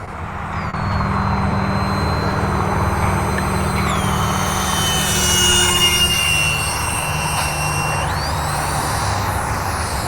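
An E-flite twin 30 mm electric ducted-fan B2 stealth bomber model comes in to land through wildfire smoke, a steady loud whine with rising and falling pitch as the throttle changes, sustained throughout with no talk.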